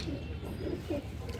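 Soft pigeon coos from a large pigeon at a Lucknow pigeon sale, three or four low, rounded calls in a row, fairly faint against a murmur of background noise.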